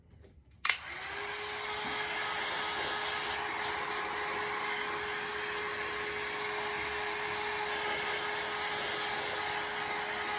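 A hair dryer switches on with a sharp click and blows steadily and loudly at close range, drying reverse decoupage on glass, with a constant whine holding through to the end.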